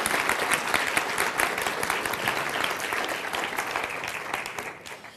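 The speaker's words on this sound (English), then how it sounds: "give a nice round of applause." An audience at a hypnosis demonstration breaks into a dense, steady round of applause, sustained and fairly close, tapering slightly toward the end with no talking over it.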